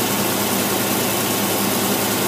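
A car engine fitted with a Holley 750 double-pumper carburetor runs in a steady, dense roar at constant speed, loud and close, with no voices.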